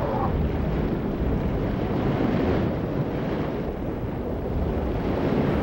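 Steady ocean surf rolls along an Andaman Islands shore in a continuous loud wash, with heavy wind buffeting the microphone and no voices.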